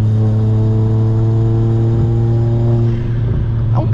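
An Audi R8 with a Stage 3 tune, hard-cut limiter and pops accelerates, its engine holding a loud, steady droning tone throughout before a brief shift near the end.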